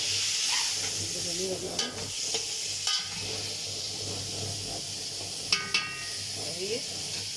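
Okra sautéing in a hot pan, a steady sizzle and hiss running throughout with occasional scraping and stirring clatter, while someone speaks briefly over it.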